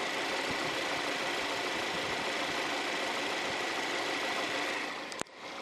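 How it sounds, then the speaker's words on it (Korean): A 2.5-litre Ecotec car engine in a used full-size sedan idles steadily and smoothly for several seconds, with a single sharp click near the end. "바로 엔진 소리 한번 들려드릴게요"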